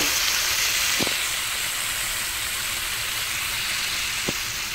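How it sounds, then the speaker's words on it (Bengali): Water added to hot fish curry in a pan gives a steady, broad hiss of sizzling that holds evenly throughout, with two soft knocks, close and moderately loud with no talking. "এবার আমি পরিমাণ মতন জল দিয়ে দেবো।"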